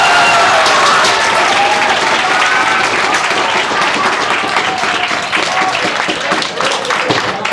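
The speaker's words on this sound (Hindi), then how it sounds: "इसलिए जोरदार ताली बजाओ एक बार।" Loud, enthusiastic applause from an audience at a coaching institute event honoring entrance exam toppers, dense clapping that holds steady and then eases slightly toward the end.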